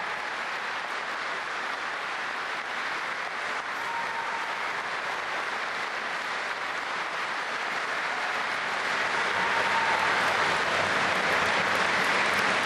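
A large hall audience gives a standing ovation after Putin's March 2014 speech on annexing Crimea, sustained, even applause from many hands rolling on without pause and swelling slightly louder toward the end.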